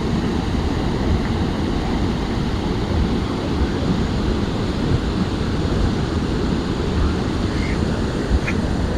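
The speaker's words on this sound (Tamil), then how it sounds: "அப்படித்தான் பாயுது தண்ணி." Water gushing through the sluice gates of Iranaimadu reservoir roars steadily and loudly, a dense continuous torrent with wind buffeting the microphone and no clear voices.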